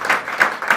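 Audience applause at the launch of a national security association, hands clapping in a steady, fairly loud burst with a rhythmic swell roughly every third of a second.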